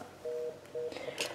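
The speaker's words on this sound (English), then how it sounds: "I'll simulate a call to the kitchen now." A home IP PBX phone system signals a call to a kitchen extension: two short, even electronic tones in quick succession, close and moderately quiet, followed by a brief clicking noise.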